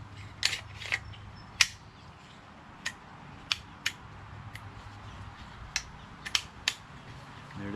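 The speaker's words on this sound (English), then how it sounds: "You put this in about halfway, slip the bolt in here and push it in." Bolt carrier group slid and pushed into the upper of a Smith & Wesson M&P 15-22 rifle: a few sharp, isolated metallic clicks and snaps spread over several seconds against a low background hum.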